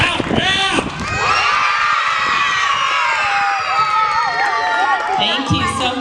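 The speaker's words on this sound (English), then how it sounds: "All right, everybody yell loud." Children and adults in a school audience at a sheriff's employees' benefit association award ceremony yell and cheer loudly together, a sustained burst of whoops and high shouts that fills the room for several seconds.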